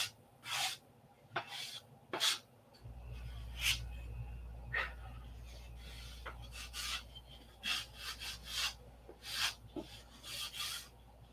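Hand sanding of a P-47 model flap, a series of short, sharp rasping strokes at an irregular pace, close and fairly quiet, with a steady low hum in the background for most of the clip.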